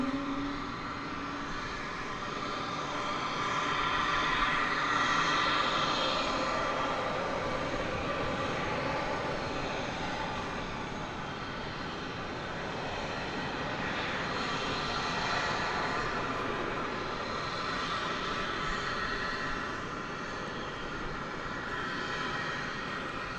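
A jet airliner in green livery, flight 513 bound for Denver, moves near DFW Airport at dawn, its engines giving a moderate, steady roar with gentle swells in loudness and no talking.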